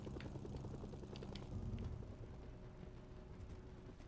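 A helicopter in the video game Mercenaries 2 flies with a steady, low rotor thump and engine drone, faint and continuous throughout with no talking.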